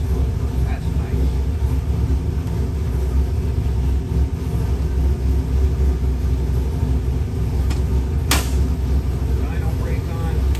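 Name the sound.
Ford 427 crate engine running on dyno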